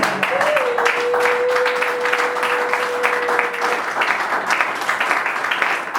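A church congregation applauds during a worship service, steady dense clapping filling the space for several seconds, with a sustained sung or voiced tone briefly riding over the crowd noise.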